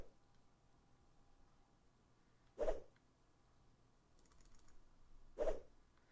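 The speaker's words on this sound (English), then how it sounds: "you see them clicking like crazy like this on the monster trying to kill him" Two sharp, isolated computer mouse clicks about three seconds apart, close and fairly loud against a quiet room hum, during play of the game Shroud of the Avatar.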